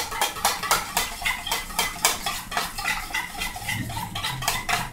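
A spoon clinks rhythmically against a bowl or pot while rose water and condensed milk are stirred together for Afghan sheer peyra, quick repeated taps with no talking.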